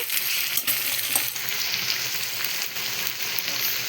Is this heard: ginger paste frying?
yes